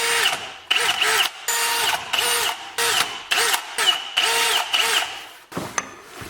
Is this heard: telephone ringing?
no